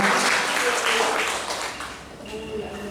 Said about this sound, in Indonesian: Sekali lagi tepuk tangan buat Tuhan Yesus yang luar biasa